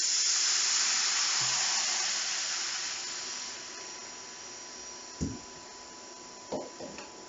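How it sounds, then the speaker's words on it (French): White wine poured into a hot pan of sweated shallots and onions, a loud sizzling hiss that slowly fades, followed by a few sharp utensil knocks against the pan. "on va déglacer avec un petit peu de vin"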